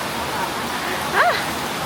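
Heavy rain pours down on a Bangkok street in a steady, dense hiss, close and loud, with a brief higher tonal sound rising and falling partway through.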